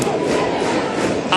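Panama fans at a Little League World Series game roar and cheer after a three-run hit, a dense, sustained crowd noise with no lulls.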